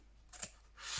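Scissors snipping through fabric while trimming material for a grungy journal's fabric spine, two short close cuts, the second trailing into a longer rasping slice.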